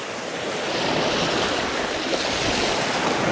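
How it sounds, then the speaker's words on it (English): Ocean waves splash heavily against the shore in a continuous, loud, close roar of churning water with no voices. "How those splashes have reached so high is beyond me."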